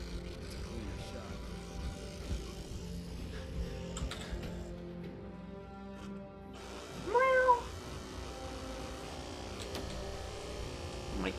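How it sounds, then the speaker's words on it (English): A single short cat meow from Fallout 4, rising and falling, heard over steady game ambience and faint clicks, moderately loud and close. "I hear the cat"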